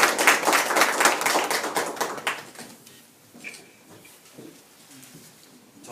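A room of supporters claps to welcome Unified Progressive Party candidate Min Byeong-ryeol at a Busan Yeongdo by-election press conference. Dense, close clapping lasts about two and a half seconds, then thins out to a few scattered claps and quiet room noise.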